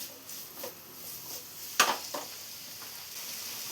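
Chopped onions with a pinch of salt sautéing in a pan for a chicken dish, a quiet sizzle broken by a few spoon scrapes, one sharp clink against the pan midway.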